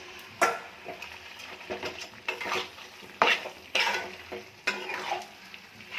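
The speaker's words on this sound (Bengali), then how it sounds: "মশলাটা কষা হয়ে গেছে, এবার মাংসটা দিয়ে দিচ্ছি।" Meat sizzles in a wok of browned spices and onion for an Indian curry, loud close frying with repeated sharp metal spatula scrapes and clanks at irregular intervals, no talking.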